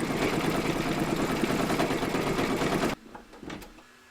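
An embroidery machine stitching the blue jewel of a crown on a coaster design hums with rapid, even needle strokes for about three seconds, then stops abruptly, leaving a few faint clicks.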